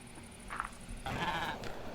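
A Minecraft sheep on a small farm bleats a couple of times, short nasal baas close by, over quiet game ambience with a steady high tone.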